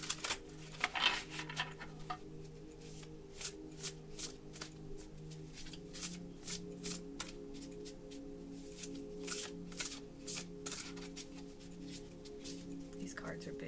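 A large tarot deck being shuffled by hand, with a rapid run of crisp riffling bursts that repeat steadily, close and clear.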